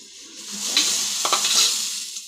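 Tea for a tea-stall style brew, two tablespoons of tea powder added to water, simmers and bubbles in a pot while a spoon stirs it, with soft scraping and light sizzling, fairly quiet and close.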